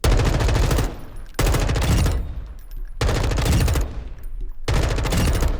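An M4 rifle with a scope firing in Warzone 2.0, loud close bursts of rapid automatic gunfire, four sustained bursts separated by short pauses, with no talking.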